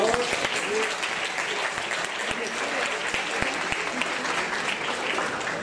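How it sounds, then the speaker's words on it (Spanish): Dense, steady audience applause fills a room at an engineering ingenuity contest's 2022 presentation event. Sharp clap transients run throughout the whole stretch, with a few voices audible underneath. "aplauso, por favor."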